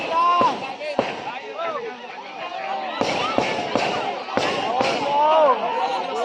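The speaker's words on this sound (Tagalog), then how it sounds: "Fireworks!" Fireworks go off in a rapid series of sharp cracks and bangs, some louder than others, while excited voices shout and cheer over them throughout.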